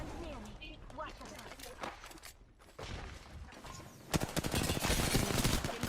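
Apex Legends firefight with rapid bursts of gunfire crackling in and out against a busy game mix, building into a dense, loud volley near the end, with speech mixed in at times.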